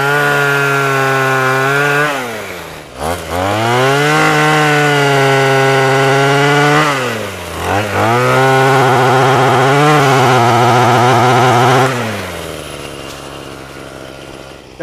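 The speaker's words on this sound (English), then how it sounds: "now that allows me to kind of do almost a lateral cut, if you will, like in this case on this limb up here" Troy-Bilt TB25PS 25cc gas pole saw with an 8-inch bar revs and bogs while cutting a tree limb overhead, loud two-stroke engine whine rising and dipping in pitch across several strokes.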